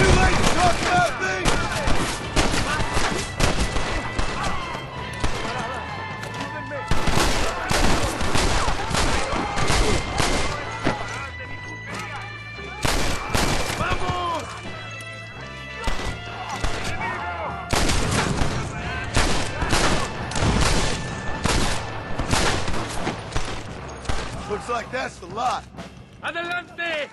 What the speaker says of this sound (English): I'll gun down the lot of you!